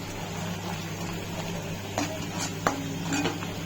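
Metal utensils clink and scrape against a pot as turmeric, red chilli and cumin masala is stirred in oil, a few sharp knocks standing out over a steady low hum, with no one talking.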